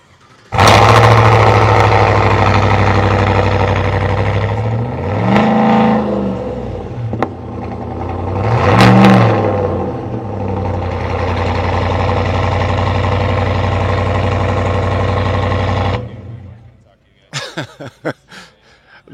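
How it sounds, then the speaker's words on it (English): A car engine cold-starts and settles into a steady, loud idle, with two swelling revs partway through before it cuts off, followed by a few faint knocks. "We're gonna try to fire up this engine so you can listen to it."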